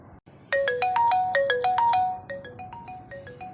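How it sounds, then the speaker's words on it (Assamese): A phone rings in an animated cartoon comedy with a bright, melodic ringtone. A rapid pattern of electronic notes repeats loudly and clearly, then softens toward the end. "মোৰ ফোন আহিছে"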